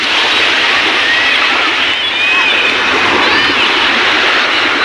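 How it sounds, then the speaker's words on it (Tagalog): Strong sea waves slosh and rush around an outrigger fishing boat out on rough water. A loud, continuous wash of water fills the whole stretch with no clear speech. "Parang malakas ng alon."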